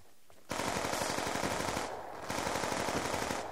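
Rapid gunfire in Call of Duty Black Ops 2 comes in two long bursts of closely spaced shots, loud and sharp, with a short gap between them.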